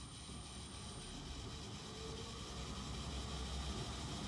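A Myford Super 7 lathe converted to a three-phase motor and inverter, running with the revs turned up: a faint, continuous mechanical hum with a steady high whine and low rumble, no talking.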